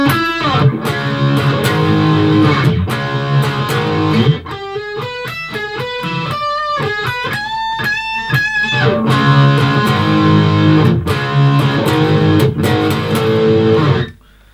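Distorted electric guitar solo from a rock song, in standard tuning: loud, sustained overdriven notes and fast melodic runs over a chugging rhythm, with no talking.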